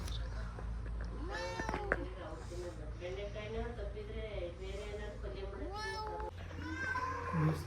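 A two-day-old kitten with eyes still closed gives repeated thin, high meows close by, mixed with soft squeaks and a person talking gently alongside.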